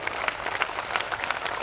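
Steady, dense applause from an audience at a Hindi comedy poetry gathering, a Hasya Kavi Sammelan, with many hands clapping together throughout.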